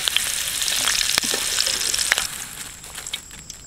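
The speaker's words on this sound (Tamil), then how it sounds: "இப்போ அடுத்து வந்துங்க கருவேப்பிலையும் பொரிச்சு எடுத்துக்கலாங்க." Curry leaves fry in hot oil for a Tamil-style aval mixture, a close, crackling sizzle with sharp pops that gradually settles down.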